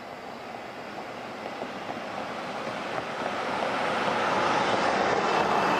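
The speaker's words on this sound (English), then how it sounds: "Hearing some engines. Looks like something just fired up." Aircraft engines spool up at Ottawa Macdonald-Cartier International Airport, a distant broadband jet roar that swells steadily louder over several seconds, with no speech.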